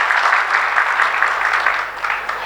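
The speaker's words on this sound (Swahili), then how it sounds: "naomba tujipigie makofi mengi sana." A large audience at a community meeting on unity and family values applauds loudly and continuously, a thick even patter of clapping throughout.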